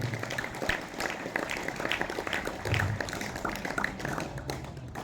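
A crowd claps together in a steady, moderately loud patter of applause that carries on throughout, slightly distant, as in a school hall at a higher-education event.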